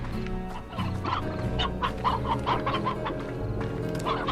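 Chickens in the video game Slime Rancher cluck in a string of short, repeated calls at moderate volume over steady background game music.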